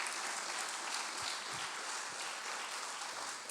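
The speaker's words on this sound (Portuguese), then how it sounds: "As palmas para o Senhor" Church congregation applauding for the Lord during a sermon, a dense, steady roar of many hands clapping, sustained throughout and fairly distant.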